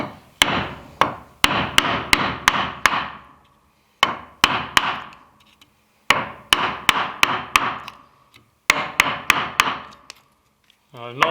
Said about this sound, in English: we'll just start working it off with the chisel